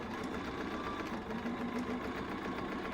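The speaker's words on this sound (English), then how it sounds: "Let me sew this one on." Domestic sewing machine chain piecing quilt block pieces for a Kaffe Fassett-style Golden Gate block, a steady close motor whir running continuously throughout.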